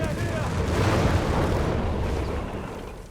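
A grenade goes off in Company of Heroes 3 amid a multiplayer battle, a deep rumbling blast that rolls on and slowly fades under a continuous wash of battlefield noise, with a commentator talking over it.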